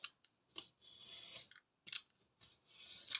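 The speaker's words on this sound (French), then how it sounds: "soit au cutter, soit au ciseau. Et je vais venir couper ce qui dépasse" Scissors snip off the excess edge of a paper card in several short, close cuts separated by brief pauses, quiet with no talking.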